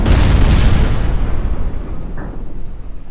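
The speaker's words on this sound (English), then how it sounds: "5 torpedo hits in total" Torpedo hits exploding against ships in the naval battle game Ultimate Admiral Dreadnoughts: a loud, deep booming blast that opens at full force and rolls away slowly, with a fainter secondary burst near the end.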